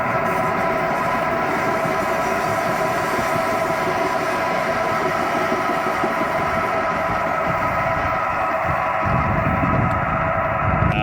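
Trains rolling past a park near an airport, a loud, continuous rumble and rattle of rail cars with steady low clatter that swells slightly toward the end, with no talk over it.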